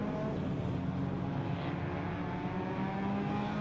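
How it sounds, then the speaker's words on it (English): Race cars on a circuit at a regional motorsport festival, with a steady, moderately distant engine drone and no clear pass-by peaks. "A couple of cars on the left-hand side there,"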